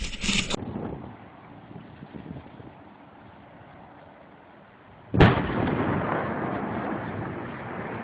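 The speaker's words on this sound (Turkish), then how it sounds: "Şu anda patlama gerçekleşti." Dynamite blasting splits a mountainside at the Geyve Gorge: a short sharp burst at the start, then a sudden loud, deep explosion boom that rolls into a sustained heavy rumble of falling rock and debris.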